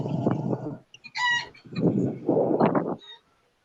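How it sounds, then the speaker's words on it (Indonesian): A chicken clucks in a few short bursts, with a brief high squawk between them, fairly close and clear against a quiet background. "Ada suara ayam."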